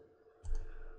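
A single key press on a TI-89 graphing calculator gives a short, soft plastic click midway, heard up close against quiet background.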